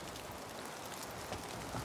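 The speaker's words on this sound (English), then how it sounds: "It's raining outside." Steady rain falling outdoors, a dense continuous hiss of drops on surfaces, close and even throughout with no voices.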